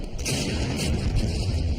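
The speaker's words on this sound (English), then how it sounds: "Up above, huge explosions shake the valley." A deep, rumbling dynamite blast at the El Cajon dam construction site, a rolling boom echoing through the valley, sustained and heavy throughout.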